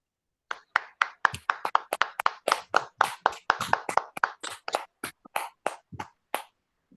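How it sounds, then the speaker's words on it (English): Several participants in an online Toastmasters meeting clap into their microphones, a run of sharp, separate, close-up hand claps that are loosely rhythmic and taper off after about six seconds. "let's have a big round of applause for the speaker"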